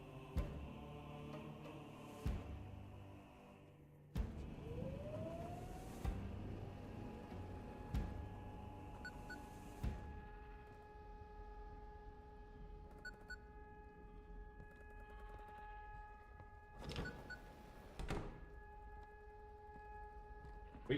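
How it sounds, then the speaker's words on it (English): A siren in the Static Dread: The Lighthouse video game at night, rising into a long sustained tone that holds steadily under scattered thuds and knocks, fading toward the end with a couple of louder bangs. "We're gonna hear that siren all night."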